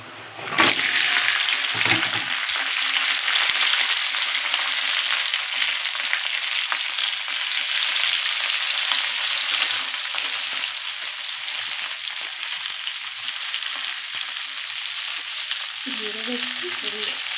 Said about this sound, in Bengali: এবার ঢ্যাঁড়সগুলো আমি একটু নুন, হলুদ আর চিনি দিয়ে ভেজে নেব